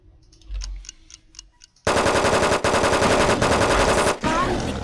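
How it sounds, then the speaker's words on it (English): In UFO Aftermath, a quiet stretch with faint clicks gives way to loud, rapid automatic gunfire that rattles on continuously for about three seconds with brief breaks. "Just shoot this damn thing."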